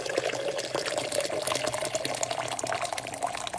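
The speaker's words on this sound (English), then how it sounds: "take my hot water that I've boiled this morning, pour it into my jug here." Steady stream of boiled hot water pouring into a jug, a continuous splashing gurgle at close range with no talking.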